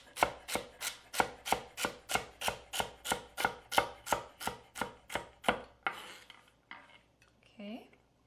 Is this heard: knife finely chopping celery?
yes